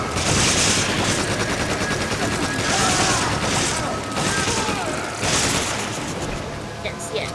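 Video game gunfire rattles in repeated bursts of rapid shots and booms, loud and close, with a player's voice talking over the shooting.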